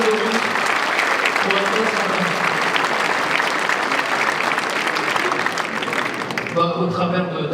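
Sustained, dense audience applause at a New Year's greetings ceremony, loud and even for several seconds before stopping abruptly as a voice begins speaking.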